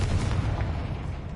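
A Confringo spell blast in the video game Hogwarts Legacy: a dense, rumbling explosive roar that fills the whole short moment at steady loudness.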